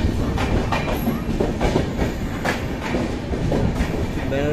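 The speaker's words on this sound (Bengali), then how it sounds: "আমাদের ট্রেন এই মুহূর্তে প্রবেশ করলো কাশি স্টেশনে।" A passenger train rolls into Kashi station in Varanasi, its wheels clattering steadily and rumbling loudly close by, with a brief high squeal near the end.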